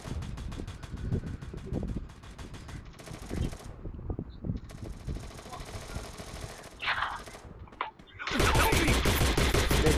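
Rapid bursts of automatic gunfire in the battle-royale game Free Fire rattle across most of the stretch, pausing briefly before a dense, loud barrage closes it out, with wind-like game noise underneath.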